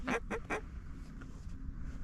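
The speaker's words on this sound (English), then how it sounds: "Those are mallards." Mallard ducks calling on a duck-hunting marsh where pintails are also present, three short loud quacks in quick succession at the start, then only low background rumble for the rest.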